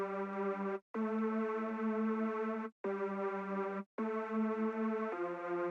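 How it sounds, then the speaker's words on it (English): Simple saw chord lead synth built in FL Studio, bright buzzy sustained chords played alone in four held stabs separated by short gaps, the last chord shifting lower. "Next to that, I have a saw chord lead, which is a simple saw chord, and it sounds like this."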